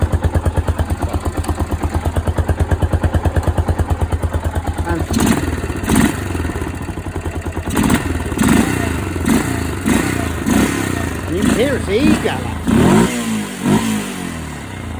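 An MT350 motorcycle engine idles with a steady rapid thump, then revs up in repeated throttle blips; someone speaks briefly between the revs, close to the microphone.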